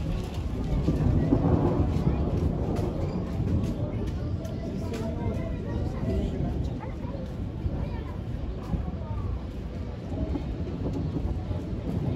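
Steady heavy rain with low rumbling thunder in the background, continuous and fairly loud, with voices talking underneath.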